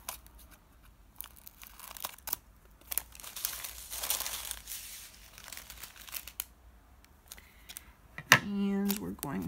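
A diamond painting drill pack is cut open with scissors, a faint crinkle of plastic and a few soft snips near at hand, ending in a short louder rustle.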